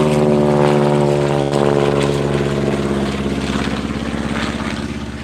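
A propeller seaplane drones steadily and loudly nearby, its engine holding a strong even buzz that slowly fades as it moves off, with no voices over it.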